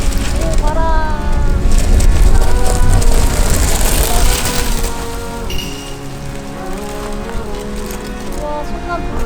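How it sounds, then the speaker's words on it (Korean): Strong wind gusts buffet a solo campsite with a tent, a loud broadband rush that swells early and eases later, with someone speaking briefly over it. "오, 바람."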